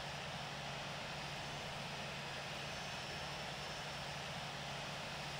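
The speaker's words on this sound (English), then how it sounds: "we got engines on. We got an actual good engine start with good engine sounds" A steady, faint aircraft engine drone runs unbroken in the Infinite Flight game, a continuous low hum and hiss with no talking over it.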